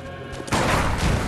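A single gunshot from a firearm in the video game Bloodborne, fired at a dog enemy: a sudden loud blast halfway through, followed by a rumbling tail of gunfire and impact noise.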